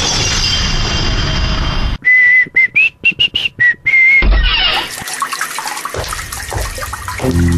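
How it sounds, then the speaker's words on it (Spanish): Water gushes from an open tap in a loud hiss, then gives way to a run of sharp, brief whistle-like tones and later quieter, uneven splashing. "Una llave abierta consume hasta 12 litros de agua por minuto."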